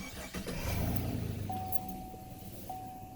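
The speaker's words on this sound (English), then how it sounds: "So I'm cranking it up." A Chevrolet Silverado truck engine cranks and catches, then settles into a steady idle, fairly close and moderately loud, with a thin whine running through the idle.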